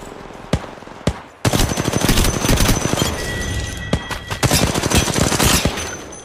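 A Spitfire light machine gun fires in Apex Legends Mobile, a few single shots leading into long, loud, rapid automatic bursts at close range with only brief pauses.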